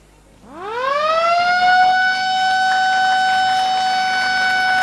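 An electric siren sounded at the inauguration of the West Papua governor's office, rising from a low growl into a loud, steady wail that holds its pitch for several seconds.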